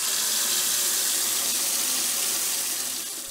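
Water rushes steadily from a hose into a paddling pool, a continuous loud hiss with no breaks that eases off slightly near the end.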